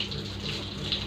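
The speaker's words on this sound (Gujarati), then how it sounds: "એ રીતે પાણી નાખીએ." Water splashes and gushes steadily while being poured to wash a Gir cow on a village dairy farm, a continuous close running-water sound with no clear pauses.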